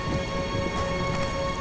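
Heavy rain falls in a steady, dense patter with a constant hiss, moderately loud and uninterrupted, with no voices.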